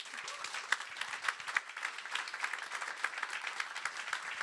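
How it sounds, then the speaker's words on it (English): Audience applause at a business presentation on predictive procurement, a dense steady patter of many hands clapping throughout, fairly loud and without speech over it. "Edmund, let's give him a round of applause"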